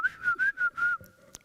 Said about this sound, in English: it is a normal glottal pitch plus a whistle